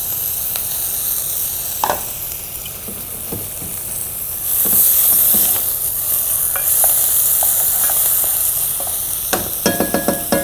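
A veal chop sizzles loudly as a mushroom cream sauce reduces around it in the pan, a steady frying hiss broken by occasional clicks and taps of utensils, with no talking.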